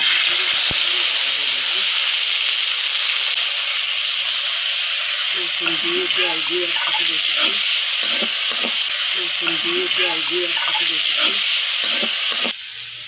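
Onion paste frying in a kadai right after lentil fritters, a steady loud sizzle and hiss running throughout, with a voice talking over it in the middle.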